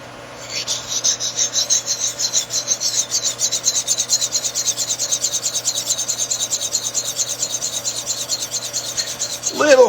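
A conditioning stone grinds against metal tooling close to the microphone, a continuous fast rasping scrape with a steady pulsing texture lasting several seconds, then a brief sharper change at the end.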